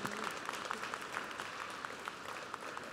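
Audience applause for engineering faculty at a December university commencement ceremony, a steady, fairly quiet wash of many hands clapping in a large hall with no voices on top.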